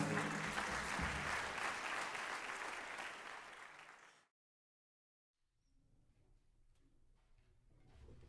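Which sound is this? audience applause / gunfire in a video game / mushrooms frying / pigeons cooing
audience applause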